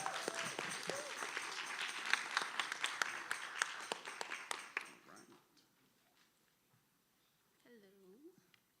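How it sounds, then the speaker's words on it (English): A crowd at a debate claps loudly and steadily for several seconds, and the applause then fades away into near silence. "Let's welcome her with a round of applause."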